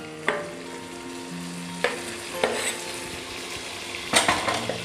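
Chopped tomatoes stirred into browned onions frying in a pan for vazhaipoo biryani, with a steady low sizzle and a few sharp scrapes and clinks of a spoon against the pot, close and alone.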